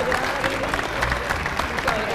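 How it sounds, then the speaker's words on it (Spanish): Audience applause in a theater after a television host's appearance, a dense continuous clapping that stays steady, with voices talking over it. "un aplauso para Mirta, por favor"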